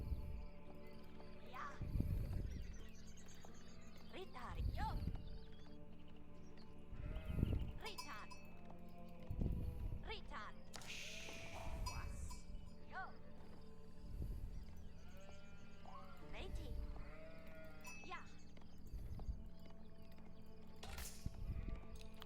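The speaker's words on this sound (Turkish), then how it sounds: "Ay şurada iki tane koyun varmış." Sheep bleat in the video game Age of Empires IV, a string of short bleats every two to three seconds over steady in-game ambience and sound effects.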